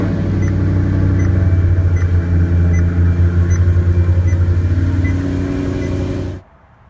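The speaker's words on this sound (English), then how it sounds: "do a cold startup." A 2014 Maserati Granturismo engine runs loud and close after a cold start, a steady throbbing low rumble with rhythmic pulses and a higher whine, before cutting off abruptly near the end.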